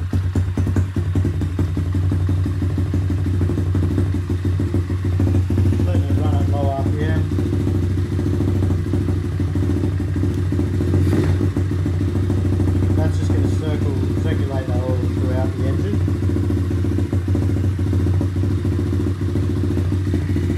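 A pit bike's small engine runs continuously at a steady idle with a clattering, buzzing drone close by, while someone talks over it at times.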